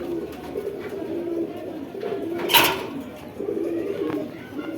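Giribaz pigeons cooing softly in low, repeated throaty murmurs close by, with a brief flutter or rustle partway through.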